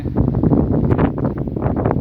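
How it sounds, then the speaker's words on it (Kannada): Strong gusty wind buffets the microphone in loud, uneven low-pitched blasts that rise and fall throughout. "ಗಾಳಿ ತುಂಬ ಬೀಸ್ತಾ ಇದೆ"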